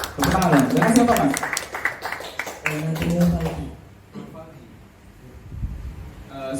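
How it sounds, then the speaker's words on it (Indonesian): Audience members clap at a KK Force product demonstration, sharp scattered claps mixed with someone talking loudly over them before the room settles into quieter speech. "Tepuk tangan dong."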